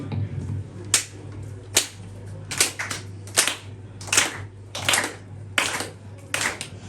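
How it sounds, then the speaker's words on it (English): An audience claps along in steady unison, sharp crisp claps landing roughly every 0.8 seconds, fairly close and alone with no talk over them. "But I want you to just clap."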